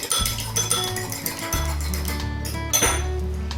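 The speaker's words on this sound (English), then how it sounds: "I'm going to crack an egg Give it a nice whisk." An egg being whisked in a bowl for dough, rapid metallic clinking and tapping of the whisk against the dish, close and fairly loud, with brief pauses between bursts.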